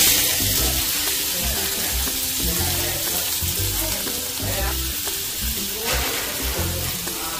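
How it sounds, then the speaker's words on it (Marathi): Onion sizzling loudly in hot oil in a pan while paneer paratha stuffing is cooked, a dense continuous crackle with rhythmic scraping and stirring strokes, close up and with no talk. "तेल तापलंय, कांदा टाकून घेते."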